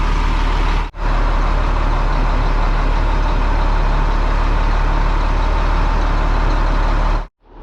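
A heavy excavation vehicle on flotation tires idles along in low reduction, giving a loud, steady, close engine rumble that runs without a break for about six seconds, starting and stopping abruptly.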